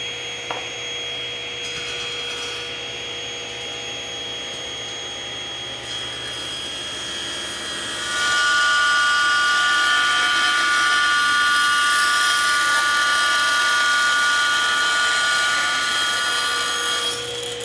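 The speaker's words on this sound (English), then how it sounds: "I'm going to turn on the dust collector, and let's make our first cut with the new jig." A table saw cuts a board held in a tapering jig while a dust collector runs, a steady machine drone that rises into a louder, brighter whine about halfway through, with no speech.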